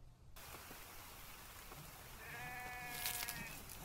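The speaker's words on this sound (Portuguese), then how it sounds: "Vou atrás dessa cabra agora." A goat bleats in The Infected survival game, one wavering animal call near the end over a soft, steady rain-like ambient hiss.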